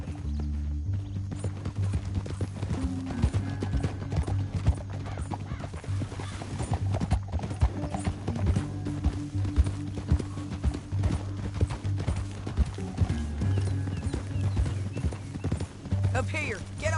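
Horse hooves clip-clopping at a steady pace in the video game Red Dead Redemption 2, set under a constant dense bed of music and ambience with spoken dialogue over it.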